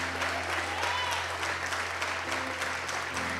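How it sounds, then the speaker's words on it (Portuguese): A church congregation applauds during a sermon on the cross of Christ, a dense, even patter of many hands clapping together under a low, steady hum of background sound. "Queria que vocês aplaudissem a cruz de Cristo, o sacrifício do Senhor nessa noite"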